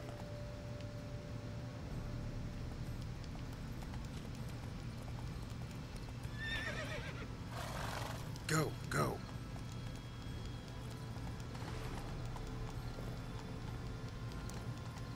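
A horse in The Witcher 3 trots with clip-clopping hooves over a steady low game ambience, then lets out a loud, short whinny midway, followed by a few fainter hoof sounds.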